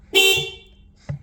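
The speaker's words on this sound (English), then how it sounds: "Horn works." Horn of a Honda Civic wagon (RT4WD) sounds in one loud, close honk lasting a fraction of a second, followed by a brief second tap, with no talking.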